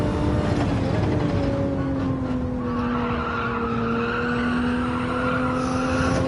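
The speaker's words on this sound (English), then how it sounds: "Then the car slides on the inside curb." A Subaru Impreza in Gran Turismo 7 at Sardegna slides over the inside curb with a sustained, loud tire squeal above a steady engine roar.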